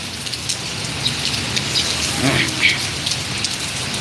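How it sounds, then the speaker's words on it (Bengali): Heavy rain pours down in a Malaysian village, a dense, steady hiss of drops on surfaces, with a few louder splashes standing out near the middle. "তো এই বৃষ্টি যে অবস্থা আল্লাহ পাক ভালো জানে এই বৃষ্টি থামবে কখন"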